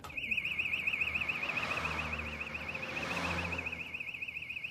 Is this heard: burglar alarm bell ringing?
yes